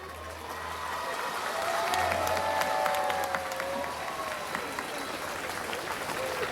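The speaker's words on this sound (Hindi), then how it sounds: "इतनी तालियां बज रही हैं आपके लिए" Audience applause at an annual day function, steady dense clapping with some cheering building and holding for several seconds, a tonal voice or whistle-like sound gliding through the middle.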